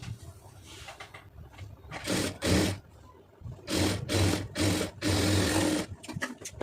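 A sewing machine stitches a lined blouse, running in several bursts of steady motor whir with short pauses between them, close and fairly loud, with no talk.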